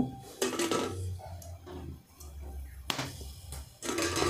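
Tomatoes set down on a metal wire rack over a gas stove, giving a few sharp metallic clinks and clatters, close and separated by short pauses.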